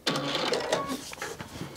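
A Baby Lock Altair sewing and embroidery machine running a straight stitch, giving a dense, steady mechanical whir with fast rhythmic needle clatter that stays up close and fairly loud for the whole stretch, with no talking over it.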